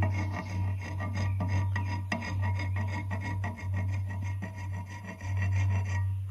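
Metal file scraping excess gold off a dental gold inlay, with rapid repeated rasping strokes close up over a steady low motor hum, no talking.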